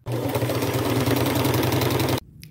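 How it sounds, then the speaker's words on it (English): A sewing machine runs a straight stitch while making a boho headband from upcycled materials, giving a steady, close, rapid mechanical whir for about two seconds before it stops abruptly. "I will take it to my sewing machine and I will just make a straight stitch down the top"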